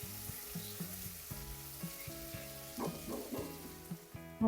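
Onions sautéing in a pan for a Malayalam tomato curry give a steady close sizzle with light stirring scrapes, partly overlaid by music-like tonal bands.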